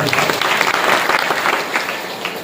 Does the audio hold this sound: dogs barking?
no